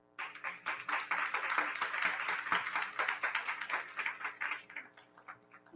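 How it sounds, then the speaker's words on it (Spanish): An audience claps at a formal event on digital transformation and gender, a dense, steady round of applause that holds for several seconds and then thins out. "Un fuerte aplauso."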